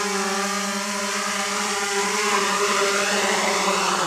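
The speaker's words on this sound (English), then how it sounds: "a little noisy, but that's what you can expect for drones with this size propellers and that can lift weight" The Aeroo Pro, a heavy lift fishing drone with large propellers, gives off a loud, steady whirring drone from its spinning blades. The tone stays at an even pitch the whole time, with no pauses.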